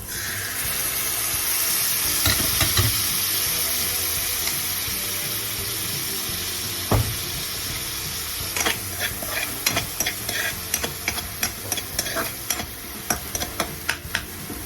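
A pan sizzles steadily while ingredients are stir-fried right after a splash of fish sauce, for beef broccoli with mushroom and pak choi; the scrape and clack of stirring grows more frequent toward the end, with no talking.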